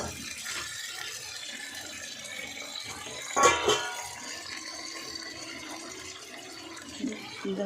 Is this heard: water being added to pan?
yes